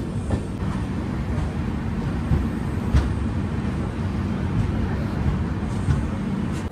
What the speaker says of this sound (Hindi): ये देख लो सुबह सुबह हमने का ट्रेन पहुंचा था जागीर रोड रेलवे स्टेशन।